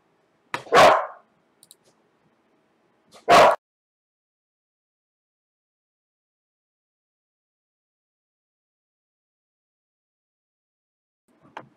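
Dogs in a home let out two sharp, loud barks a few seconds apart, followed by long silence and a faint bit of sound at the very end.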